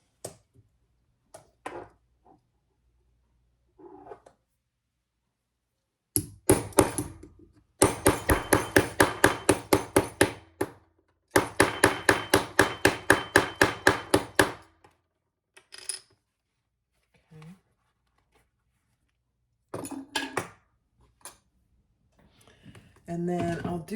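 A leather hole maker punches through leather for a hobo shoulder bag, loud bursts of rapid rhythmic clacking strikes in two long runs with scattered single knocks between, close and sharp, with brief talk.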